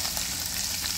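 Breaded climbing perch fries in hot oil, giving a brief, steady close-up sizzle and crackle with no voices.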